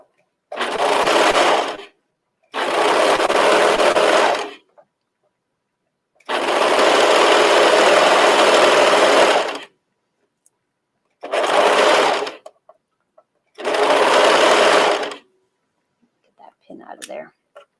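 A sewing machine stitches a knit top in five separate runs of steady whirring, each lasting a second or two up to about three seconds, with short silent pauses between them and faint handling noise at the end.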